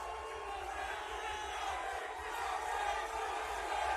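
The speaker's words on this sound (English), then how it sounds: "They're booing Gaethje a little bit." A press-conference crowd jeers Justin Gaethje with a sustained, moderately distant roar of boos and shouts that swells slightly toward the end.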